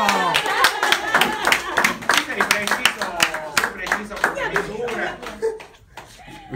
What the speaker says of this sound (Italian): Finalmente un applauso!